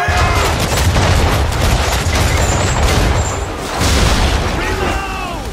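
Cannons boom in a naval ship battle in Assassin's Creed 3, loud repeated blasts under dense battle noise while voices shout over the action.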